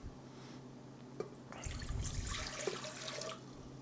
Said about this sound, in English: I'm going to take that 1 3/4 cups of warm water, and I'm just going to use the bowl that I'm going to mix it in.